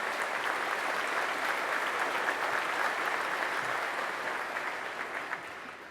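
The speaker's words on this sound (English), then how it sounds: "want to thank John for emceeing today in ABC, let's give him a round of applause." Sustained, dense applause from an audience at an outdoor plaza dedication ceremony, loud and steady before gradually tapering off near the end, with no speech over it.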